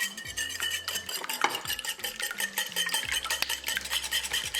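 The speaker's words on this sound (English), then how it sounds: "With the help of whisk, beat it well." Two eggs beaten with a whisk in a bowl for an egg wash, giving a fast, continuous metallic clatter and tapping against the bowl at close range, with no one speaking.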